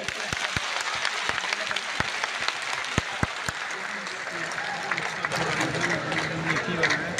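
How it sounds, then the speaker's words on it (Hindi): At an outdoor political gathering in India, scattered sharp hand claps ring out, then a fuller crowd noise builds as voices rise over the clapping. "जोर से ताली बजा दें"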